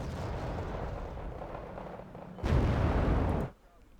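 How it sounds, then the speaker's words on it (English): Cluster bombs burst in the video game Wargame Red Dragon: a rumbling wash of explosions gives way to a louder, dense crackling barrage for about a second before cutting off sharply. "This thing dropped cluster bombs."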